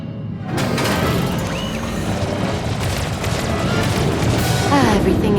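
A vessel being destroyed in a video game explodes in a loud, sustained boom that rumbles on with crackling debris and metallic whines for several seconds.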